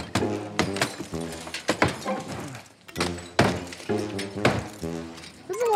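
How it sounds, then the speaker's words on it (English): Window glass smashed by hand, several sharp crashing blows with shattering and tinkling debris spread across the moment, close and loud, with people talking and reacting between the strikes. "We're really just smashing this window?"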